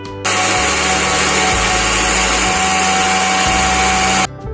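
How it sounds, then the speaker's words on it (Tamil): Mixer grinder blending muskmelon pieces with sugar into juice, a loud, steady motor whir that starts abruptly, shifts pitch slightly as the contents churn, then cuts off. "சர்க்கரை சேர்த்துட்டு நம்ம மிக்சியில் அரைச்சி எடுத்துடலாம்."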